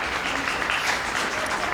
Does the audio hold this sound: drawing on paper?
no